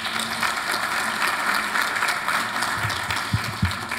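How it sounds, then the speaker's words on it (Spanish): Audience applause at an international pediatric palliative care symposium in Oaxaca, a steady crowd clapping filling the hall throughout, with a few louder, heavier claps near the end. "Recibámoslo con un fuerte aplauso"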